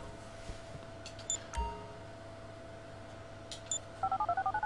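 Quiet electronic phone tones from the video game Grand Theft Auto V: a couple of faint beeps, then a quick run of rhythmic dialing tones at the end over a low hum.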